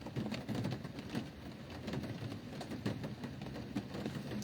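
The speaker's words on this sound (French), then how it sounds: "Ah, il pleut ici." Steady rain falling outdoors, a soft continuous patter with faint scattered drops, moderately quiet and even throughout.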